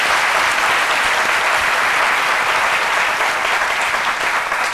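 Studio audience applause for a guest honoured as a UNICEF ambassador singer from Côte d'Ivoire, loud dense clapping that holds steady throughout without pause.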